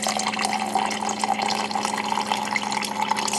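Water pouring steadily into an automatic water dispenser as it fills, a continuous bright splashing rush with a faint steady hum underneath, close and unbroken, with no talk.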